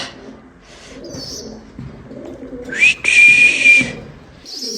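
Domestic pigeons in a cage coo in low, soft murmurs while sharp, close whistling calls burst out loudly in short bursts near the end, with no talking.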